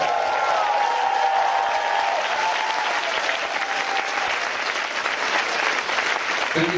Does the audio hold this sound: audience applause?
yes